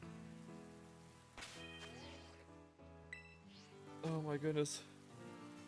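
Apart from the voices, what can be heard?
rain falling in Pokemon video game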